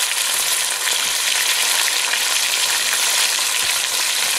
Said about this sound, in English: We want a nice sear on the outside.